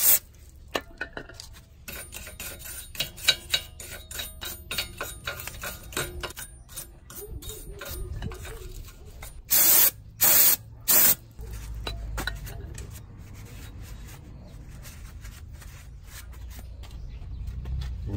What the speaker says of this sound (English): Next, we're going to spray clean this good with the wire brush.